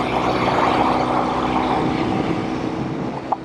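A classic Norton Atlas 750 motorcycle running in 4th gear, its engine a steady, fairly loud droning roar that holds for the whole stretch with one faint click near the end.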